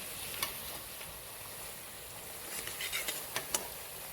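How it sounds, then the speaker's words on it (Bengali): Steady, quiet sizzle of flattened-rice cutlets frying in a wok, with a few soft clicks and scrapes as pieces are turned near the end. "বারবার করে উল্টে পাল্টে ভেজে নিচ্ছি"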